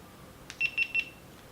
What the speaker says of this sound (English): That beep sounds tell you that this camera is on